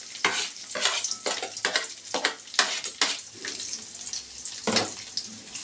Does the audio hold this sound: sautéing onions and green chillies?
yes